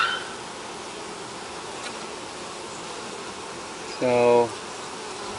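Honey bees buzz in a hive with a continuous dense hum from many insects, heard close. A voice speaks briefly near the end.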